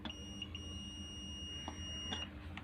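A multimeter's continuity tester sounds a steady, high electronic beep across a kettle's heating element, a continuous tone held for about two seconds over low background hum.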